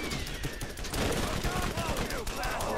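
Gunfire in the Borderlands video game, a dense continuous volley of rapid shots that fills the whole moment loudly, with game sounds layered underneath.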